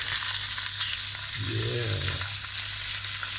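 Ribeye steak searing in a cast iron skillet as butter and garlic are added, with a continuous loud, close sizzle and a brief stirring swish partway through.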